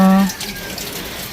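Tap water running steadily into a sink, a close broadband rushing hiss following a brief voice at the start.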